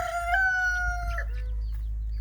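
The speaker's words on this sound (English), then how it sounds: "The chickens are in their new enclosure." A single drawn-out crow from a nearby rooster, followed by a few soft clucks over a low steady hum.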